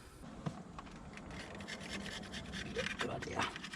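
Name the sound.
razor blade scraping old gasket remnants off metal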